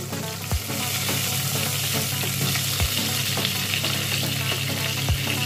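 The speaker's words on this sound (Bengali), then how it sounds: "এবার আমি ওই তেলের মধ্যেই দিয়ে দেবো কটা টমেটো।" Tomatoes dropped into hot oil left over from frying paneer give a dense, steady hiss and sizzle, close up, with a few dull low thumps spaced seconds apart and no talking.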